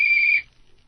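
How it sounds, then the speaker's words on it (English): A shrill plastic whistle blast held steady for under half a second, then cutting off into quiet room noise. "This is a lousy whistle. I need one of the metal ones."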